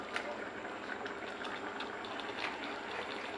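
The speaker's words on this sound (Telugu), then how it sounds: "పది నిమిషాల తర్వాత చూద్దాము చక్కగా ఉడుకుతుందండి పప్పు" Dal (lentils) simmering in a pot with tender tamarind leaves: a soft, steady bubbling and gurgling, faint and continuous, heard alone.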